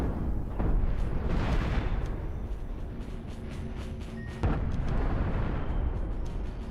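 Light cannon flanker ship firing in the space game Cosmoteer: repeated booming cannon shots layered over a dense rumble, with a sharp fresh burst midway and steady heavy battle noise throughout.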